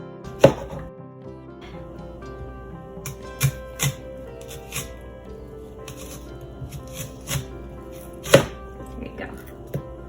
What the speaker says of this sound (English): use your fingers as your guide as to where you're going to place your knife against, right? And then slice down